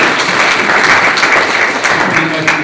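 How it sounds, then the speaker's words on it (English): Loud, dense audience applause for a panelist at a forum on slavery, Jim Crow and the death penalty, heard close and continuous for the whole moment. "a big round of applause"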